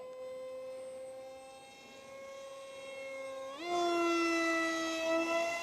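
An RC F22 jet powered by an FP 2700 Kv electric motor holds a steady, whining tone at half throttle, then rises sharply in pitch and loudness near the end as it accelerates, with no one talking.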